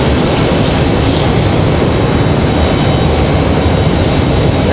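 A Delta Airbus A220-300 jet at an airport, a loud, continuous broadband engine roar that holds steady throughout with no voices.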